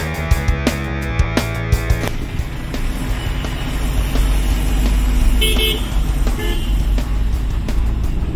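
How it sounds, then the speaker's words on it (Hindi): A car drives through busy Kolkata traffic, with a run of short, rapid horn toots early on and more honks later, over a continuous road and engine rumble that swells in the middle. "गाड़ी इनका है लेकिन ड्राइव मैं कर रहा हूँ।"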